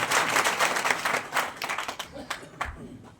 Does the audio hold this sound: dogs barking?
no